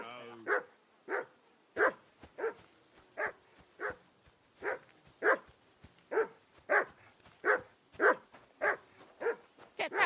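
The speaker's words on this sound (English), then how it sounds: "Whistle at that mutt of yours to stop barking!" A dog barks repeatedly and steadily in the medieval video game Kingdom Come Deliverance II, about a dozen sharp barks at a regular rhythm, moderately close, with no talk.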